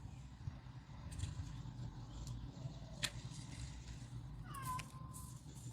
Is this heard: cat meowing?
yes